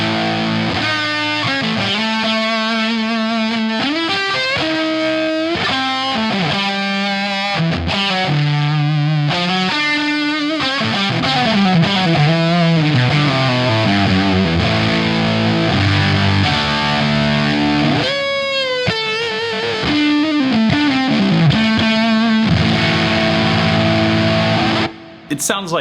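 A high-gain distorted electric guitar plays a busy riff, loud and up close with shifting bends and sustained notes running throughout, apparently alone without talk.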